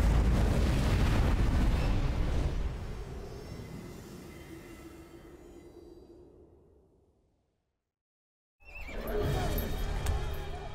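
A war horse in the video game Age of Empires 4 neighs loudly against a dense battle rumble that fades to silence, then the din returns.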